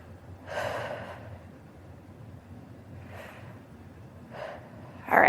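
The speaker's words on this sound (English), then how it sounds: "Take a couple deep breaths" A person exercising takes a few deep breaths, three slow, soft inhales and exhales spaced a couple of seconds apart, close to the microphone in a quiet room.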